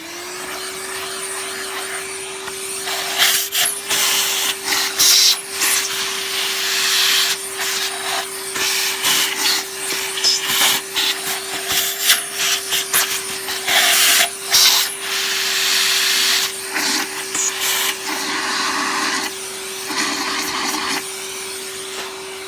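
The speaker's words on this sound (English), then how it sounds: "Let me just put the vacuum over it." A Hoover Junior U1650 upright vacuum cleaner roars close up with a steady motor whine and rushing airflow that rises and falls as it is pushed over a surface during cleaning, running alone without talk.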